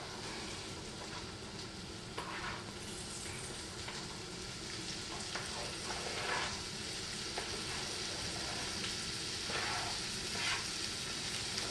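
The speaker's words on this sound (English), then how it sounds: "Our butter is sizzling, so we're gonna add the veggies in." Steady, crackling sizzle of vegetables frying in butter in a hot skillet, with faint stirring and scraping now and then.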